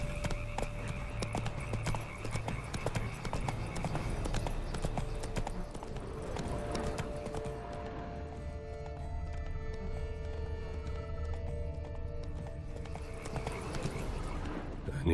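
Hooves of Geralt's horse Roach clip-clop steadily at a gallop in The Witcher 3, dense and continuous, with ambient game music layered under the rhythm.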